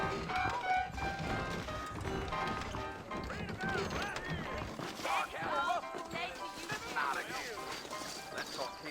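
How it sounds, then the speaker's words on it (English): Horse hooves clip-clopping in the Western video game Red Dead Redemption, steady rhythmic hoofbeats moving along under a mix of game music and a voice talking over it. "I got the horses saddled up and ready out front."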